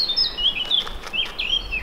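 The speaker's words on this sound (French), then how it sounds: "Merci les oiseaux." Birds chirp outdoors near an abandoned factory in the Vexin countryside, a string of short, bright tweets repeating every half second or so over soft background hiss.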